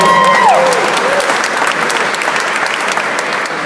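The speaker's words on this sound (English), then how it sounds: "Big round of applause, everyone." Awards audience at the Radio Academy Hall of Fame ceremony breaks into sustained, loud applause that fills the room, with a few brief tonal sounds near the start.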